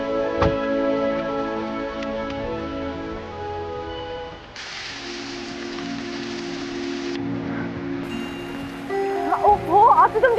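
Heavy rain pours as a steady, close hiss, swelling midway through and blending with sustained musical tones, with a voice starting up near the end.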